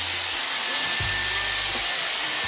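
Dyson hair dryer blowing steadily during a rough dry of hair, a loud continuous airy whoosh with a high motor whine, close up and uninterrupted.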